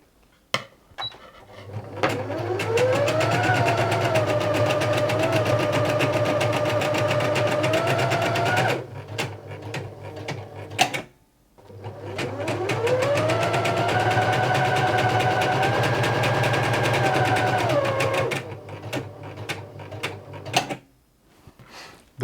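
A Brother PE-190D Disney embroidery machine stitches on white fabric, running in two long steady bursts of rapid mechanical whirring, each several seconds long with a short pause between, loud and close with no talking.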